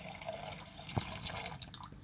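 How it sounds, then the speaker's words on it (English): Water poured into a pot holding 300 grams of apples, a steady broadband wash of running liquid with a brief splash near the middle, close and moderately loud with no talking. "So I've got 300 grams of apples, and I'm going to add 500 milliliters of water"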